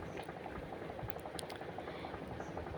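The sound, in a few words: bay leaves and dried chillies sizzling in hot oil tempering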